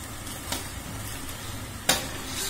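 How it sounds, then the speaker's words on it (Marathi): Onion cooks in hot oil in a pan alongside ginger-garlic-chili paste, a steady low sizzle broken by two brief utensil knocks, close and moderately quiet. "कांदा सुद्धा आपण व्यवस्थित तेलावर शिजवून घेऊया."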